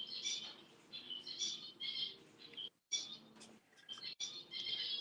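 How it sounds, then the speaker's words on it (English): Pet birds chatter in the background with bursts of high, quick chirps and squawks, faint and intermittent with short pauses between calls. "I hear them in the background chattering"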